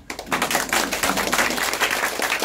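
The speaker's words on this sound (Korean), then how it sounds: "박수를 한번" Audience applause at a human rights seminar on support for North Korean defectors, a close, busy patter of many hands clapping that starts abruptly and holds steady for over two seconds.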